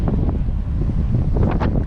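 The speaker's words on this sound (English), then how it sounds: "you won't be able to hear nothing but the wind" Strong wind buffets the microphone along a bike trail in the Lower Florida Keys, a loud, continuous low roaring rumble with gusty swells throughout the short stretch.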